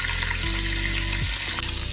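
Kalonji seeds and green chilies fry in hot mustard oil with a loud, close, steady sizzle. A spatula scrapes the pan a few times, and no one speaks.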